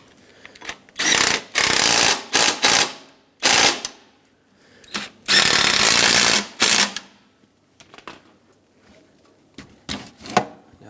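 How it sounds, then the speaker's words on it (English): A ratchet tightening the front seat rail bolts on a 2008–2010 Ford F-450 Super Duty, loud rapid clicking bursts of a few seconds each, separated by pauses and followed by a few lighter clicks. "I'm just going to tighten these two front ones up."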